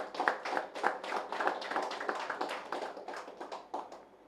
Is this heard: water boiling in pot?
no